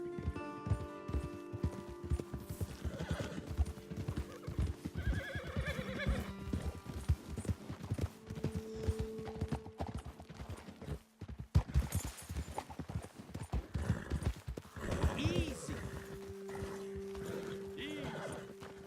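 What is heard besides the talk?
horses trotting and neighing in Red Dead Redemption 2 video game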